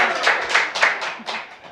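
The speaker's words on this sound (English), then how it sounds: "Give yourselves a round of applause." A small live studio audience claps briefly, a few uneven bursts of close hand claps that quickly thin out.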